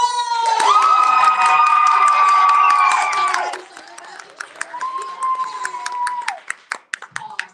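A summit crowd cheers loudly with sustained shouts and whoops, then thins into scattered claps and a few more yells near the end.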